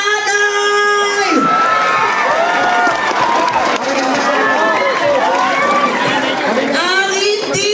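A loud crowd at a barangay pageant introduction in San Pedro, Laguna, cheers, whoops and shouts continuously with high excited screams, close and dense, while voices call out over the noise.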